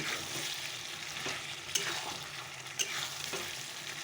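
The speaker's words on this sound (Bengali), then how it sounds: "চলো এবার আলুটা দিয়ে একটু কষে নিই" Potato pieces fry with chicken in a pan, a soft, even sizzle with a few sharp scrapes and clicks from the stirring spoon, close up and fairly quiet.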